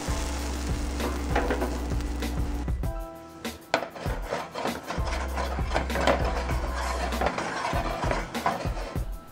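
Homemade caramel-flavored protein pancakes sizzle steadily in a pan, with scraping and tapping from a utensil breaking through the frying hiss at close range.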